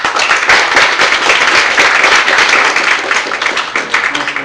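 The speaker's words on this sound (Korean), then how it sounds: "큰 박수 부탁드리겠습니다." Loud, dense applause from an audience at a book launch event, many hands clapping together in a continuous, close roar that fades slightly toward the end.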